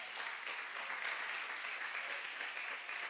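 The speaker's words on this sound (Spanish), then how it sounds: "Denle un aplauso al Señor." Steady, dense applause from a church congregation at a morning service, sustained and evenly loud throughout with no break.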